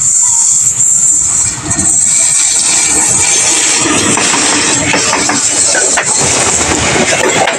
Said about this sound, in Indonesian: Kereta api lokal Garut Cibatuan dari stasiun Garut dengan tujuan stasiun Padalarang masuk berhenti di jalur 2